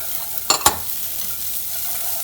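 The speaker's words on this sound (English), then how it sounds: "And we're just going to saute this again just for about a minute or so." Browned rice and lemon juice are sauteed in a pan for Greek lemon rice, a steady sizzle with two sharp, loud clinks of the spoon or pan partway through.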